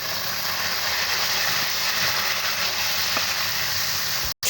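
Tomatoes dropped into a hot pan with onions and chilli for a potato and capsicum dish, giving a steady, loud, close sizzle and frying hiss that holds throughout, with a brief cutout near the end.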